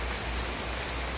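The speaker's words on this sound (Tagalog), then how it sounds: "naabutan ng ulan" Steady rain falls during a bike ride, forming a continuous, even hiss of drops with no clear gaps and no voices.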